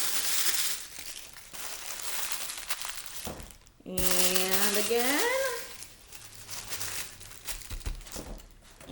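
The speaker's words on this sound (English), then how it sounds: "Crumple it up." Paper crumpled up by hand for a rainforest mural, with crinkling and crushing bursts under a close voice, a brief high tonal sweep in the middle, then more rustling.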